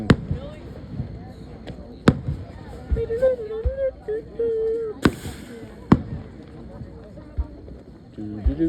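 Fireworks burst at Whiteman Air Force Base with several sharp booms scattered through the scene, some close and loud, while people chatter and shout nearby.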